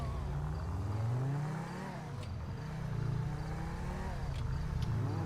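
A car engine in GTA V revs up before a gear change, with a steady droning whine that rises and falls slightly and stays moderately loud throughout.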